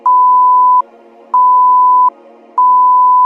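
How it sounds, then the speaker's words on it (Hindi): An Abdullah's Al-Sujood salah time indicator sounds its buzzer: three loud, steady electronic beeps, each under a second long, separated by short gaps, close and clear. "अब्दुल्लाह सलाह टाइम इंडिकेटर में अजान, जमात और मकरू वक्त के शुरू में एक बजर की आवाज़ आती है।"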